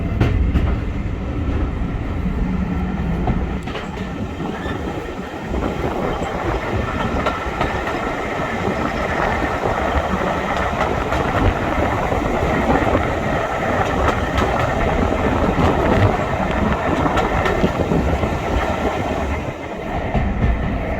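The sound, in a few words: diesel train engine running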